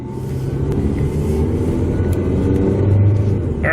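A Toyota Corolla with a freshly replaced radiator, driving along with its engine running: a steady, loud low rumble of car and road noise that swells slightly toward the end.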